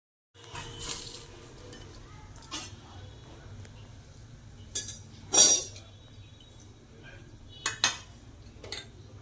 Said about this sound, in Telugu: ఇప్పుడు నేను అది మిక్స్ చేసి చూపిస్తాను.